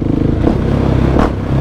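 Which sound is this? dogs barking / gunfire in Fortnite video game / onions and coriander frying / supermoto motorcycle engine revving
supermoto motorcycle engine revving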